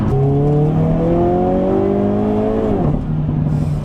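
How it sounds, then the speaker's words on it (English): A 2022 Hyundai Kona N accelerates hard with steady rising engine tones, then a quick paddle upshift drops the pitch before the revs climb again, loud and close with no talk. "Man, the way this thing's blasts into gear, it's so much fun."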